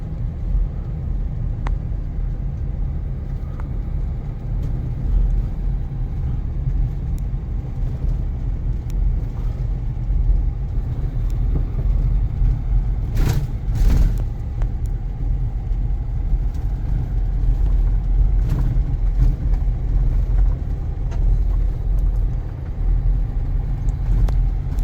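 A car with a 10-speed transmission cruising a country road, its engine a steady low rumble with road noise throughout and a few brief knocks near the middle, no voices.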